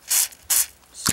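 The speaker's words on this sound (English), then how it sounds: "spray a little bit in there." CRC silicone lubricant is sprayed into a puzzle cube in two short, close hissing bursts separated by a pause, followed by a faint click at the end.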